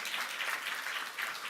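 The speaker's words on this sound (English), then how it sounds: "Big round of applause, Pak Joni." Applause from a conference audience at an Indonesia–EU trade agreement event, a brief steady patter of many hands clapping, moderately loud with no speech over it.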